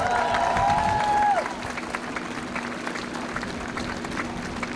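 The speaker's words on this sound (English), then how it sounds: "One round of applause for all of our vendors here today." An outdoor crowd at an anniversary freedom rally applauds the vendors, a sustained spread of distant clapping and faint cheering beneath a steady hum, louder for the first second or so.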